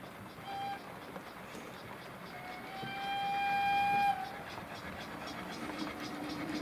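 A model steam locomotive gives a faint, thin whistle that is held for about a second, heard over a low running rumble and steady hiss.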